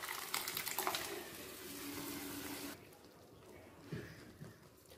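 Broth is poured into a pan of egg tarka, a close, bright splashing gush lasting a few seconds before cutting off, leaving soft clatter and faint kitchen sounds.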